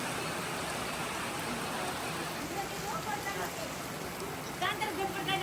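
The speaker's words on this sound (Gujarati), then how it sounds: "વરસાદ ચાલુ થઈ ગયો છે." Rain has just started falling, a steady, fairly close wash of hiss that runs the whole time, with faint voices somewhere beneath it.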